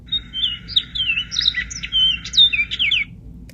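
Male Orchard Oriole singing a quick, varied run of whistled and chattering notes for about three seconds, close and clear over a low background rumble.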